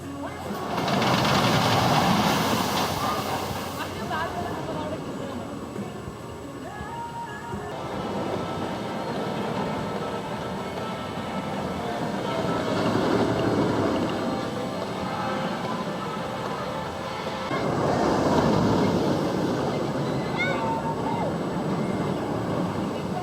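The Storm Runner roller coaster at Hersheypark makes test runs, its train roaring past in loud, rumbling swells that rise and fade several times over continuous crowd and park noise.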